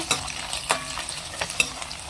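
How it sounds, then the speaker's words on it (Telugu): Onions fry with ginger garlic paste in a pan while a spoon stirs them, giving a steady sizzle broken by several sharp scraping strokes against the pan, recorded up close with no talking. "నేను ఒక స్పూన్ అల్లం వెల్లుల్లి పేస్ట్ వేసుకున్నాను ఉప్పు పచ్చి వాసన పోయేంత వరకు కొంచెం ఆనియన్స్ వేగేంత వరకు ఇలా మనం కలుపుకోవాలి"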